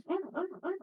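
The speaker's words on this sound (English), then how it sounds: "That noise is my dog is asleep." A sleeping dog whimpers while dreaming, giving three soft, close, whiny yelps in a quick rising-and-falling rhythm with no other sound around them.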